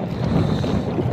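Strong wind buffets the microphone aboard a small fishing boat at sea, a continuous low rushing roar mixed with engine and water noise, with no talk.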